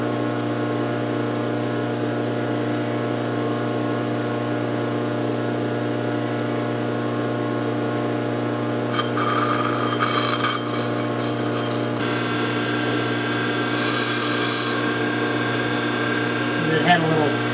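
A bench grinder's abrasive wheel being dressed by hand: a steady motor hum and whine runs throughout, with rough scraping grinding bursts joining midway and again near the end, close and fairly loud.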